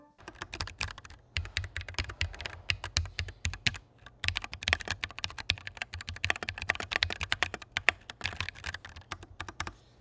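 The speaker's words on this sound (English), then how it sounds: "Now that we're done assembling the keyboard, why don't we do a quick kind of ASMR test?" Rapid, steady typing on a GMMK3 Pro custom mechanical keyboard with sound-dampening foam, close up, with crisp clacky keystrokes and no talking.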